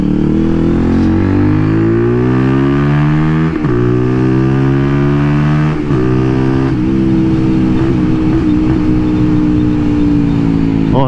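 A Zontes Roadster R 125 motorcycle fitted with a new exhaust line revs loudly while riding, its engine note climbing through the gears with brief dips at each shift, close and continuous throughout.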